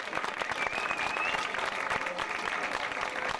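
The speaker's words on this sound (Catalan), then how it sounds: "Un aplaudiment, sisplau," Audience applause for a dance group at a 2005 Nashville line-dance contest, a dense, steady wash of clapping hands filling the room at full strength without a break.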